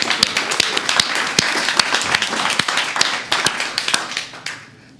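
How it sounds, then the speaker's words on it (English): An audience at a Meteor Day event gives a speaker a round of applause, dense close hand clapping for about four seconds before it quickly fades out. "big round of applause for Yuriy."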